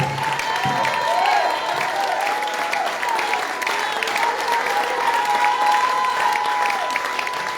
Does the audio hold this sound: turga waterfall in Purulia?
no